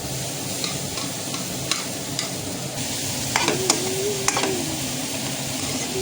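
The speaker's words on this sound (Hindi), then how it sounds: "एक्चुअली घी पहले काफ़ी गर्म हो चुका था, तो डाल दूँगी प्याज।" Onions frying in very hot ghee give a steady sizzle with stirring clinks and scrapes in a home kitchen. The sound is close and moderate, with no talk over it.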